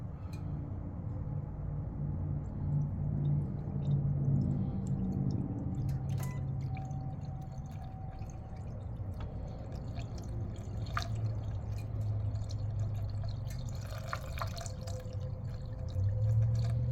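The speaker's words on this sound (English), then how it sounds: "now I'm gonna pour this bad boy right into the engine." Liqui Moly engine flush poured steadily into a Volkswagen Tiguan engine, a soft gurgling trickle with occasional drips and light metallic clinks, fairly quiet and continuous.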